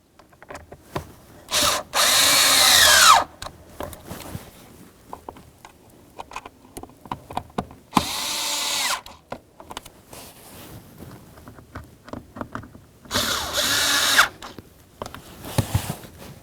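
A power drill runs down the blower motor screws on a 2003-2007 Honda Accord HVAC assembly in three short, loud, close bursts. Quiet handling clicks and rattles fill the gaps between them, and no one speaks.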